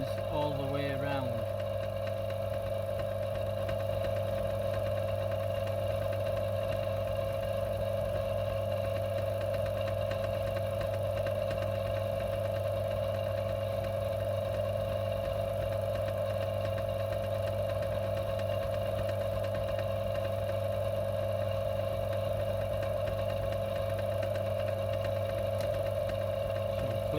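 A lathe takes a cut on a locomotive wheel for a Class 31 repair, giving a steady, continuous machine hum and drone with strong low tones that runs unbroken and fairly loud throughout.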